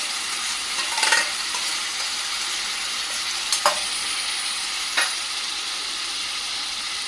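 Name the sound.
crushed tomato puree added to sautéing onions, sizzling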